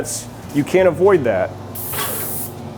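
Sharp hiss of a spray gun misting paint onto a kitchen cabinet door, loud and close, with someone talking over the first part before the spray bursts out clearly.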